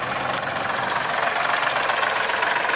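A Kubota L3901 tractor engine idles steadily nearby, a smooth, fairly quiet continuous hum with light mechanical knock and no speech.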